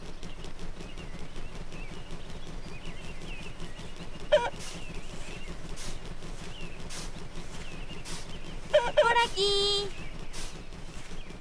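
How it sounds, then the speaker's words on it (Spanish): Hens in a Peppa Pig children's video game cluck in short, bright bursts, one isolated call and then a quicker cluster, over a steady background music bed. "Parece que las gallinas de la abuela se escaparon del gallinero."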